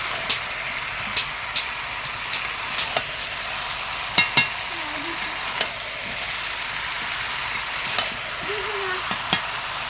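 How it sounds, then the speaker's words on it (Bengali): Whole raw potatoes frying in a pan over a wood fire, a steady hiss of sizzling oil broken by sharp scrapes and knocks as they are stirred at irregular intervals, close and without speech. "গোটা আলুটা দিয়ে একটুখানি নেড়ে চেড়ে নেব"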